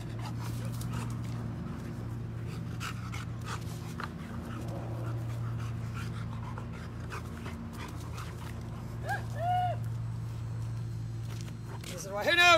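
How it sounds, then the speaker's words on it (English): A Rottweiler pants steadily close by, with footsteps and a few high whimpers near the end, over a constant low hum and occasional talk. "It's a dog."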